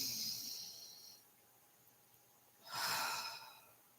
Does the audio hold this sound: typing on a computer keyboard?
no